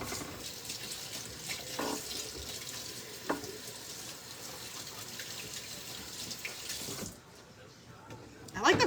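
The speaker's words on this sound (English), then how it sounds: "All right, I'll wash my hands off now." Tap water runs steadily into a kitchen sink as hands are washed while preparing game day chicken wings, a broad continuous splash that cuts off near the end, followed by a brief clatter.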